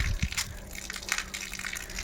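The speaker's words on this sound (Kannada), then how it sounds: "ನೀರು ಬೀಳ್ತಾ ಇದೆ ಮೇಲ್ಗಡೆಯಿಂದ" Water gushes steadily down from above after a pump motor is switched on, a continuous close rushing splash outdoors in hot sun, with a couple of thumps near the start.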